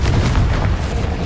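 A Confringo fire spell bursts in a Harry Potter video game, a dense, loud low boom that rumbles steadily through the whole moment with no pause.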